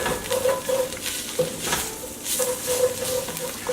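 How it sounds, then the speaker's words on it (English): Garlic and spices frying in a pot of oil for Vietnamese beef stew, a steady close sizzle broken by repeated scraping stirs, with no talking. "sprinkle in our spices, get all that garlic in there. And then we're just going to let these cook just until they start releasing their aroma"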